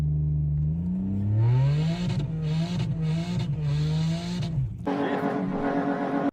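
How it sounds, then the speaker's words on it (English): A subscriber's car engine revs hard through several rising and falling pulls, loud and close, its harmonic drone climbing with each throttle blip before shifting into a rougher idle-like tone, with no talk over it. "No, the car sounds really good."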